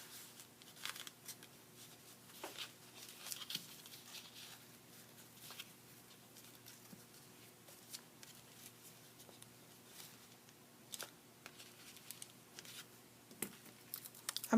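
Ribbon wrapped around a paper candy bar wrap and tied into a bow at a crafting table: soft, close rustling, crinkling and sliding of ribbon and paper in quiet, irregular bursts.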